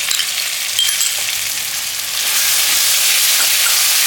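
Potato curry with sour yogurt cooking in a hot pan, a loud steady close sizzle with faint scraping of stirring that grows slightly fuller midway.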